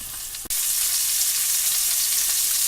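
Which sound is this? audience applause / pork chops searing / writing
pork chops searing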